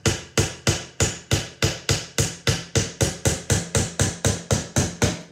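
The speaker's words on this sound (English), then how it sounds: "I'm going to hammer this in" A hammer drives a nail into a wooden birdhouse with steady, evenly spaced sharp blows, about three per second, loud and close with no voices.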